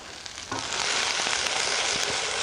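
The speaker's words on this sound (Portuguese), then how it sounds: "Eu quase que vou meio fritar o quiabo." Okra hisses loudly as it hits the hot pan, a dense broadband sizzle that swells after a brief quiet start and then holds steady and close, with faint pops scattered through it.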